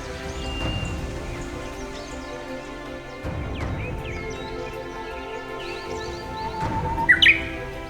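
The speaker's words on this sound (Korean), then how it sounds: "새들이 이 운곡의 아침을 깨웁니다." Small birds chirp and twitter through an early spring morning in a quiet, abandoned mountain valley, calls scattered near and far over a soft steady background hiss, with a sharper burst of chirps toward the end.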